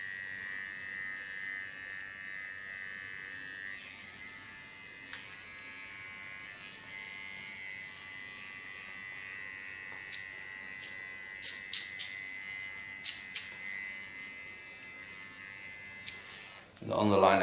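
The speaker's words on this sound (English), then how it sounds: "then I do with a small clipper the contour" A small Kione hair clipper buzzes steadily and close while trimming the contour of an undercut side-shave hairstyle, with faint clicks and brief louder bursts toward the end.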